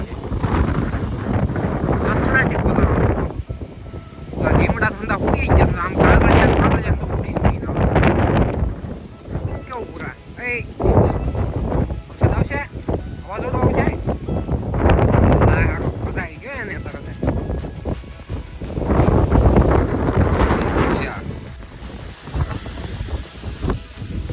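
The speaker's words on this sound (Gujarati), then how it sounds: "બહુ પવનની સ્પીડ બહુ વધી ગઈ છે" Heavy wind from a storm buffets the microphone in loud, roaring gusts that rise and fall, with voices speaking through the noise, rain falling.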